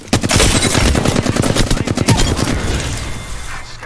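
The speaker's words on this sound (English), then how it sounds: "Shots fired, and they're hitting me." Rapid, loud bursts of automatic gunfire from the battle game Apex Legends hammer away close up for most of the stretch, then thin out toward the end.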